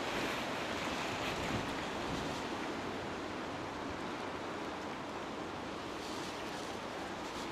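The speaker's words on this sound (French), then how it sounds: "et du vent qui s'était arrêté." Wind gusting through a garden, a constant broad rushing roar buffeting the microphone throughout, with no clear voices.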